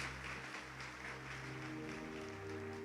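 A church congregation applauds in a steady soft wash of clapping, reverberant and fairly distant, with a low sustained tone underneath.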